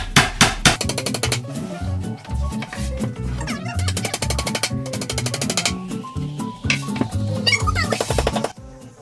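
A hammer taps repeatedly on IKEA furniture parts during assembly, sharp close knocks in quick bursts with brief pauses between runs.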